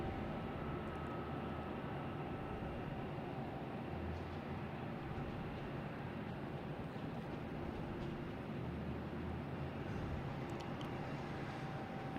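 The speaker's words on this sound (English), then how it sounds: "we have a Delta here, 737-900 heading to San Juan" A Delta Boeing 737-900 airliner at Boston Logan Airport, a distant steady jet roar that holds at an even level throughout, with no speech.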